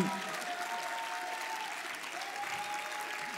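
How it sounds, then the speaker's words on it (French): Steady audience applause at a summer university event, with dense, even clapping filling the room at moderate loudness throughout. "je vous demande d'applaudir Ludovine de la Rochère."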